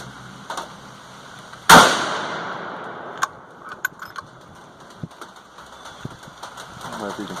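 A single loud gunshot from a .450 Bushmaster rifle firing a 200-grain FTX handload with Hodgdon H110 powder, a sharp close blast with a ringing decay into the outdoor quiet, followed by faint handling clicks.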